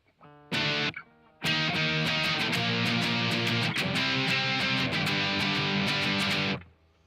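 An electric guitar played through a 'more' effect pedal rings out in a thick, heavily distorted, sustained tone. A brief strum is followed by a longer held, steadily strummed passage that cuts off near the end, with no talking.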